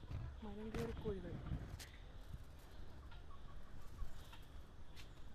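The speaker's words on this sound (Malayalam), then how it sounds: "മരം കയറി കോഴികൾ." Chickens cluck close by in a rural hillside yard in misty Kuttikkanam, a few rapid cackles early and then quieter scattered clucks, with people talking over them.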